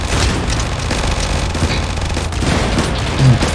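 Gunfire in the Roblox game Sky Force comes as a dense, continuous crackling fusillade that stays loud and close throughout, with a slightly heavier burst near the end.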